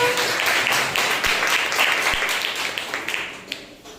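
Loud applause from a Sunday service congregation at Greater Grace church, many hands clapping strongly at first, then gradually thinning and fading toward the end with a few isolated late claps.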